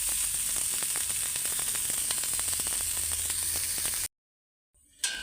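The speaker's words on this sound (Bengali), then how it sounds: "এখানে আলু আর কফির ডাটাগুলি আমি কষাইতে দিয়ে দিছি।" Potatoes and cauliflower stems sauté in hot oil with a steady, close sizzle and scattered crackles for about four seconds, then the sound cuts to near silence before a brief return.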